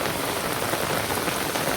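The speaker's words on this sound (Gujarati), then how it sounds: "વરસાદ જોરદાર આવી ગયો ભાઈ." Heavy monsoon rain pounds down in a dense, unbroken roar close by, drumming on surfaces with no pauses and no voices.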